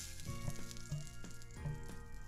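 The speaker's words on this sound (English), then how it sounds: "It's sizzling a bit." An omelette cooks in a frying pan on an electric hob in Malta, giving a soft, steady sizzle with small pops, faint and close.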